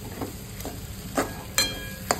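Roasted karela being stirred into frying masala in a pan, with a soft steady sizzle under a few distinct scraping stirs of a spoon against the pan, no voices.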